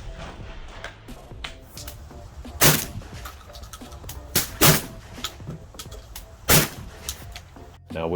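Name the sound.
Panzer M4 shotgun (Benelli M4 clone) firing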